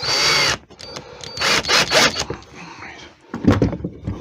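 Screw being driven into a wooden candlestick piece with a power driver, short buzzing whirring bursts in uneven spurts with pauses, close by, amid handling noises.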